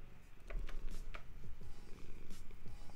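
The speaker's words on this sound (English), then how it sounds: "Get that purr in there" A cat purrs close up in a soft, continuous, rhythmic rumble that pulses steadily for a few seconds, quiet and alone with no talk.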